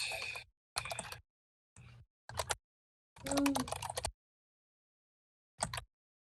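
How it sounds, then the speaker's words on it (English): Bursts of clattery key taps on a computer keyboard come in short separated runs, fairly quiet and close, with pauses between them and no voices. "As I'm typing this, because it is about half a page"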